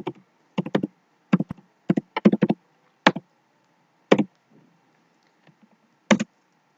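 Fingers tap out a password on a computer keyboard in quick clusters of crisp key clicks, close and clear, separated by short pauses and ending with a final pair of taps.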